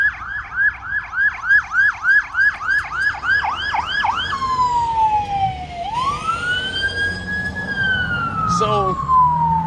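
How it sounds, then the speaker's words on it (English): A fire truck siren passes close by, loud rapid yelping cycles giving way to long rising and falling wails, with traffic rumble underneath. "fire truck."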